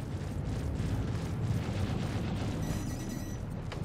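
Caterpillar ship being destroyed in Star Citizen, a steady dense rumble of explosions and heavy booms filling the whole stretch, loud and continuous with a brief high crackle near the end, no voices.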